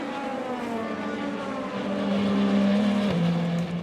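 A Glickenhaus Le Mans prototype race car engine is started and revved in the pit garage, a loud, close engine note that rises in pitch and then settles, with no talk.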